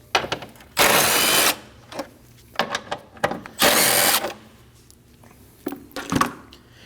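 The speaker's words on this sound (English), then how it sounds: "Using a 10mm socket, take these 2 bolts out." A ratchet with a 10mm socket loosens two intake bolts on a 2011-2016 Kia Optima 2.4L, giving two long bursts of fast clicking between shorter metallic clicks and clanks, close and loud, no talking.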